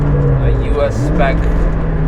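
Loud engine note of a turbocharged Porsche 997 GT2 climbing in pitch as it accelerates at the Nürburgring, boost arriving low, heard from inside the cabin with a voice speaking over it.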